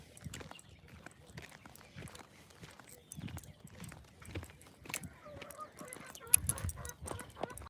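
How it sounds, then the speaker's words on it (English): Chickens cluck and honk outdoors amid hoof clip-clops and footsteps, scattered squawks rising over a low, busy background with faint voices. "Yeah, they got the chickens there going."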